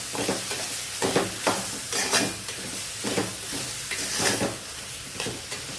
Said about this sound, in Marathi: तर मी व्यवस्थित अशी परतवून घेते